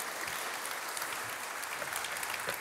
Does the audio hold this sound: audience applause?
yes